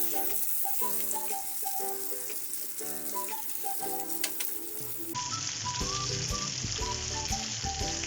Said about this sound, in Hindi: इसी तरह मैं सारे कबाब ऑयल में डाल दूंगी।